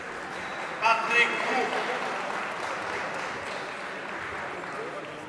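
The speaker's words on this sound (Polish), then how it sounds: "Gorące brawa, Szanowni Państwo." An audience at an Olympic boxing gala in Świętokrzyskie breaks into applause, a steady wash of clapping in a large hall that swells briefly and continues, while an announcer speaks over it.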